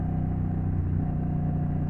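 A Honda Rebel 1100 motorcycle ridden in third gear at about 40 mph on slow twisty backroads, a steady close, low rumbling engine drone that holds constant throughout.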